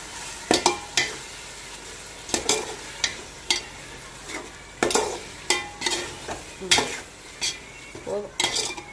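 Biryani masala fries in a pot under repeated clattering stirs, with metal spoon scrapes and knocks landing in an uneven rhythm over a low sizzle.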